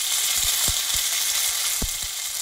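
Ground green chili and ginger paste sizzles hard in hot oil. The frying is loud and continuous, with a few sharp stirring clicks and taps of a spoon against the pan and no voices.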